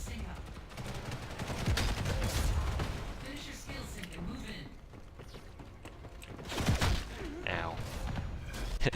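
Machine gun fire from the video game G.I.T.S.: First Assault, loud bursts of gunfire in busy dense bursts throughout, with a brief spoken exclamation over it.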